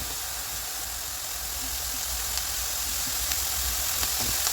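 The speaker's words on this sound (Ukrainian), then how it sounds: "Обсмажую цибулю та часник на невеликій кількості оливкової олії до прозорості" Onion and garlic fry in a small amount of olive oil, giving a steady soft sizzle and hiss close by, with a few faint pops and ticks scattered through it and no talking.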